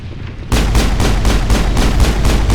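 Loud, rapid automatic gunfire in the video game Mass Effect starts abruptly and keeps a steady rhythm of repeated shots, dense and close, after a brief quieter lead-in.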